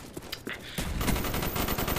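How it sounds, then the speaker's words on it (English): Gunfire from a first-person shooter video game: a few scattered shots, then a dense, sustained burst of rapid automatic fire filling the rest of the moment. "He managed to elude the gunfire."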